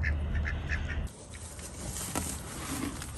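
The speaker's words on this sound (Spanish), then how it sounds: "Y los patos andan corriendo como locos de un lado a otro." Ducks quack in a rapid cluster of nasal calls for about a second while running around, then fade into a noisy outdoor background.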